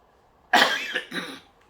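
A single harsh cough from a person with a cold, in two quick bursts, close and loud against a quiet background.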